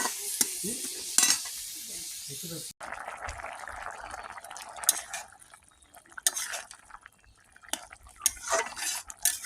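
Small fish curry with cucumber is stirred in a sizzling pan, with utensils scraping and clinking over a steady fry, then covered, while people talk nearby.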